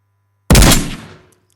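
A single loud, close shotgun blast goes off in the VR game Ghosts of Tabor after a quiet hum, then rings out and decays over about a second.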